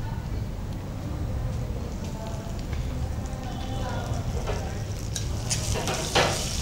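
Fresh curry leaves crackle and fry in hot oil with cumin and dried red chillies, a dense continuous sizzle with bursts of spattering toward the end, no talking.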